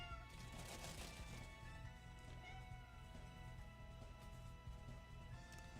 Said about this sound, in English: your meows go straight into the back of my brain